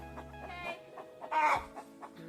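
Hens cluck inside a backyard chicken coop, giving a run of short, close clucks with one louder, drawn-out squawk in the middle.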